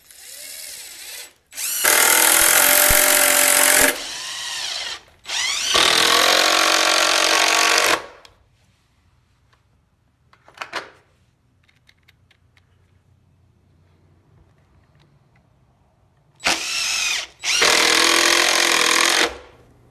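A power drill drives screws to mount caster wheels onto a wooden pallet, loud whirring bursts in four long runs with quiet pauses and small clicks between.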